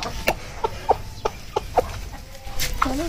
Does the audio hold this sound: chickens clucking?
yes